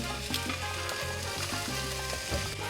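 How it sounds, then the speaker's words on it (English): Whole tomatillos sizzling in warm avocado oil in a pan, a close, continuous frying hiss with a few soft pops, heard alone under a low steady hum. "We're going to go ahead and put the tomatillos right into the pan."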